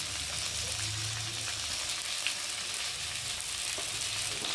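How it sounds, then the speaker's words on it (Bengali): Vegetables frying in a pan with cumin paste, tomato, chili powder, turmeric and salt, giving a dense, even hiss of sizzling oil that holds steady throughout without any voices. "দিয়ে এখন এই মশলাটাকে ভালো করে সবজির সাথে কষিয়ে নেব"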